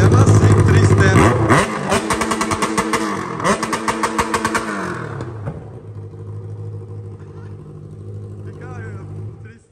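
A Yamaha XJ6 motorcycle with a 4-inch exhaust pipe revs hard and loud up close, repeated throttle blips rising and falling before settling into a rough idle.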